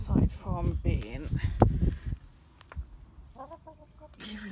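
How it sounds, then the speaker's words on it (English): Four small backyard hens cluck and chatter in short, varied bursts, close by and fairly loud, then sit under softer rustling with scattered quieter clucks. "Realised yesterday I hadn't shown you our little chickens."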